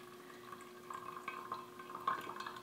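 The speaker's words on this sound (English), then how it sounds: "you can hear it already starting to drain into the insulated mug" Water from a camp bottle coffee maker draining through coffee grounds into an insulated mug, a soft, faint trickle with light drips, heard alone at close range.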